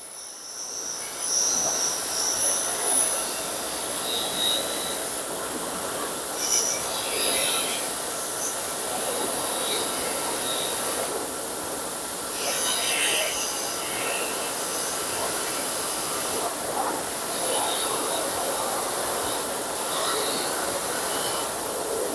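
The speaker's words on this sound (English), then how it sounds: "Gonna go ahead and hit these Krauters on the wire wheel real quick, see how they polish up" Vintage Kraeuter pliers held against a spinning wire wheel, a steady close whirring grind throughout with brief louder scratchy bursts as the metal handle is worked, no talking.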